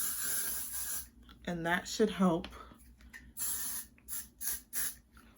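Hairspray misted over a curly wig comes in several short, breathy hisses, some after a brief stretch of talk and then repeated in quick bursts.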